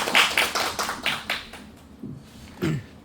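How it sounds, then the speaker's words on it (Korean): At an academic policy conference session, a small audience gives sparse applause to welcome a presenter: a few crisp claps up front that thin out into scattered isolated claps before fading. "박수로 맞아주세요."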